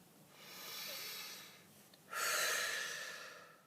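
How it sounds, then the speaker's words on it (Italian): A deep breath, a slow audible inhale followed by a longer, louder exhale close to the microphone, with no talk. "facciamo un bel respiro profondo, sciamanico."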